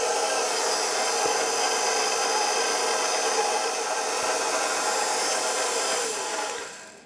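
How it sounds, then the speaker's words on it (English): An electric mixer whirs continuously for several seconds, blending sugar into flour for Dutch currant bun dough, a steady close hiss that fades out as it stops. "let me add the rest of the sugar to the flour, and I'm gonna put it on the mixer again"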